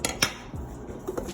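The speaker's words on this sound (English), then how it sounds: "And scrape down the bowl" A spatula scrapes down the sides and bottom of a mixing bowl of no-bake mini egg cheesecake filling with crushed mini eggs, giving a few short, close scraping and clinking strokes with quiet gaps between.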